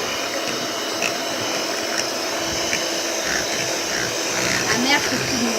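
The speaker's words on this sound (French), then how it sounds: "nous allons passer à côté avec le batteur électrique et c'est parti" An electric hand mixer whirs at maximum speed, beating a mixture toward stiff peaks in a home kitchen, a steady continuous motor drone filling the whole clip with slight variations as the beaters move.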